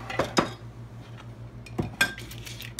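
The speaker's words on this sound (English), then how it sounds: "I'll stir it." Wool dye is stirred in a glass mason jar, giving a few distinct clinks of utensil on glass in two short bursts with quiet pauses between.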